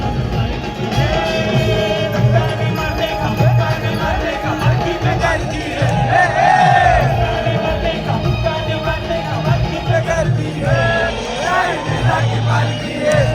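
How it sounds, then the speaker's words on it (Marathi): Devotees throng a Sai palanquin procession, with a dense crowd hubbub of voices, shouts and cheers over loud, rhythmic procession music, continuous and close throughout. "पालखी में भक्तों की गर्दी है, साई लीला की पालकी है"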